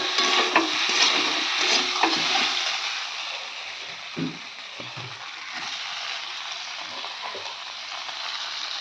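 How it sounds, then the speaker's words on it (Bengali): Onion, garlic and tomato sautéing in a pan give a steady close sizzle and hiss, with a few soft knocks and scrapes of a spatula. "এবার আমি ভালো করে পেঁয়াজ রসুনটা কষিয়ে নেব"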